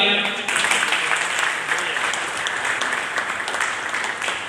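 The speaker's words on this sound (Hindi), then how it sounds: "एक बार जोरदार तालियां।" An audience bursts into applause at a village memorial ceremony held in a Bal Bhavan hall, a brief voice at the start giving way to sustained, even clapping that fills the remaining seconds.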